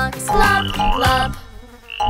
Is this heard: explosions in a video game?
no